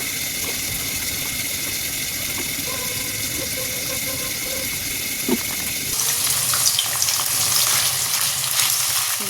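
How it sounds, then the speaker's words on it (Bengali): Paneer, capsicum and potato fry in a pan with a steady close sizzle and occasional stirring knocks, and the crackle grows brighter and busier partway through. "রাতের তরকারি করবো বলে পনির ভাজছি।"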